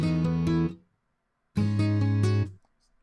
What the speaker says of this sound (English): But that's how you get that strum like